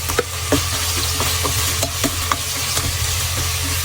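Ginger and onion sizzle in a hot pan with a steady frying hiss, broken by a series of sharp scraping stir strokes in an uneven rhythm, close and alone.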